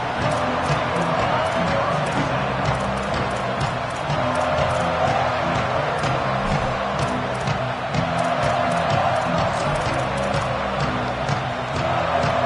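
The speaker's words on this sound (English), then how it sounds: "This crowd ready to make its presence known." A packed American football stadium crowd roars and cheers during a game. The broad, continuous wall of crowd noise runs throughout, with a commentator's voice talking over it.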